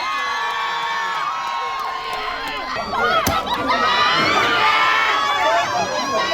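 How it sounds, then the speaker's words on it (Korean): A festival crowd at the 2019 Ground Forces Festival in Busan roars with cheers, shouts and whoops, swelling louder midway; the sustained noise dominates with bright, overlapping voices throughout. "큰 박수 부탁드리겠습니다"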